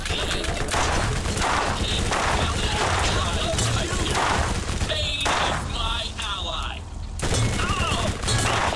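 Enemies firing caustic weapons in the Borderlands video game, a dense continuous barrage of rapid shots and bursts with chirpy electronic effects woven through, loud and close throughout.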